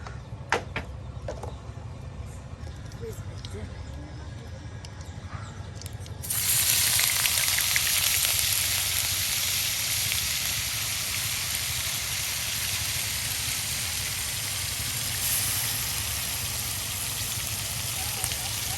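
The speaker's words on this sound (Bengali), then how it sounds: "পেঁয়াজ বাটা আদা বাটা রসুন বাটা। হ্যাঁ, এই যে একসাথে আপনার তেলে ভেজে নেওয়া হচ্ছে।" Onion, ginger and garlic paste hits hot oil in a rustic village kitchen. After a quieter stretch of clatter, a loud, dense sizzle bursts in and keeps going steadily at close range.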